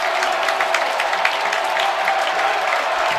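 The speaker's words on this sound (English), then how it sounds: "the crowd celebrates like they just won the game" Dense basketball arena crowd roars and cheers in celebration after made free throws at a Michigan at Indiana game, a steady loud wash of voices and clapping throughout.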